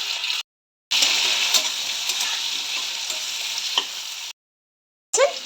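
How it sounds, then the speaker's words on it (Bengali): Potato and chopped onion fry together in a pan with a bright, steady sizzle and occasional spatula stirs, broken by two brief silent gaps. "আলু এবং পেঁয়াজ একসাথেই ভাজা হবে"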